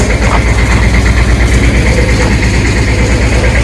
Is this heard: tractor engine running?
yes